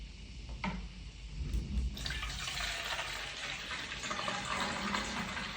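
Water pours steadily into the clean-water tank of an AIMON-04 Pro washing vacuum cleaner, a continuous close splashing and filling rush that starts softly and builds after a couple of seconds, running alone.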